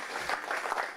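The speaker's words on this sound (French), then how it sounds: "ça mérite une bonne main d'applaudissement, ça?" Audience applause at a 40th anniversary celebration, a steady wash of many hands clapping for about a second, moderately loud and fairly close.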